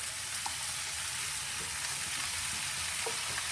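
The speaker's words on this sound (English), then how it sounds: "To this now we're going to add the chopped tomatoes." Chopped tomatoes frying in a pan with garlic for an aubergine and lentil ragu, a dense continuous sizzle that stays steady and close, with no voices.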